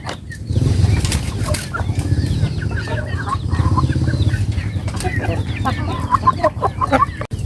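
Bangkok and village chickens cluck close by, with a rooster's calls, wing flaps and scattered bird noises over a steady low rumble, busier and louder toward the end.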